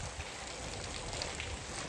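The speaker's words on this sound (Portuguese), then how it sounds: "Aí quanta chuva." Steady rain falls at a house construction site where bricklaying work is underway in Canada, a dense, even hiss with no break and no voices.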